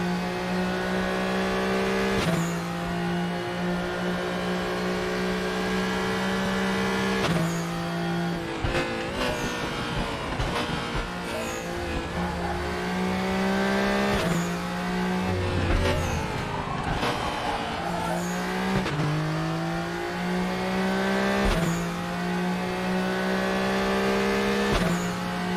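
Small racing car engine driving laps around a track, a high buzzing whine that rises and drops repeatedly through gear changes and revs, steady and prominent throughout.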